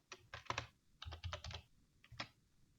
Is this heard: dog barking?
no